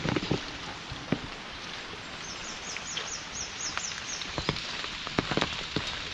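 Morning rain falls on surfaces in a steady, close patter, broken by sharper drip and tap clicks scattered irregularly through the shower.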